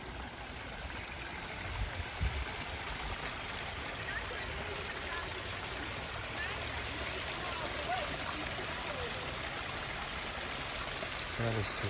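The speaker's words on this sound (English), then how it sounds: "babbling brook." A babbling brook runs steadily in the open air, a broad continuous rush and trickle of water with faint scattered clicks, moderately distant and unbroken throughout.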